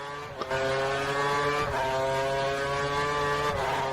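Formula 1 car engine in the F1 2013 racing video game, a steady high-pitched whine with strong harmonic drone, brief gear-shift dips near the start and later, loud and continuous with no talking.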